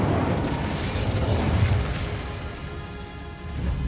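An Incendio fire spell in the video game Hogwarts Legacy unleashes a dense, roaring burst of flame with a heavy rumbling low end that sustains for several seconds, loud and continuous without speech.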